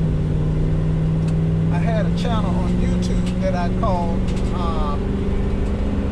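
Steady, loud interstate highway traffic rumbles as a continuous roar, with someone talking briefly over it.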